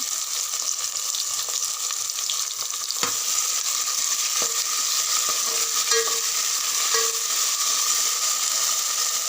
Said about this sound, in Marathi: अद्रक लसूणची पेस्ट टाकूया.